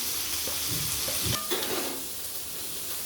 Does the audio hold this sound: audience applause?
no